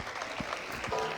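A short burst of audience applause for children at a UN Convention on the Rights of the Child anniversary opening ceremony, full and steady across the whole moment.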